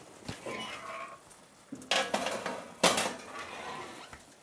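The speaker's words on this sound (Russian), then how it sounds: "Ставлю бутерброды в духовку." Tray of sandwiches slid into an oven, with a metallic clatter and scraping of the tray against the oven racks, a couple of sharper clanks, close and moderately quiet.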